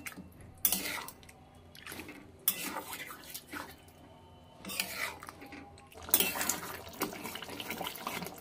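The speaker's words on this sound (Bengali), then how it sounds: "মশলার সঙ্গে মাংসটাকে ভালো করে মিশিয়ে নিলাম।" Mutton being mixed with spices in a pan, with three bursts of scraping, clattering stirring separated by quieter pauses, close and moderately loud.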